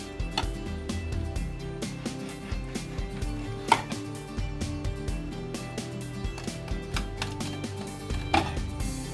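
A chef's kitchen knife cuts through the skin and along the bones of a fish being filleted, giving a steady series of close, soft crunching and tapping strokes against a cutting board, with no talk over them.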